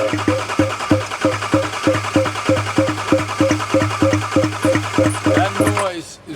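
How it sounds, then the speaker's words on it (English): A Range Rover engine cranking over on the starter, giving a steady, rapid, evenly spaced do-do-do-do pulsing for about six seconds, loud and close, then cutting off. "So when this was cranking just now, I heard this kind of a do-do-do-do noise"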